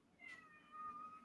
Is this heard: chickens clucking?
no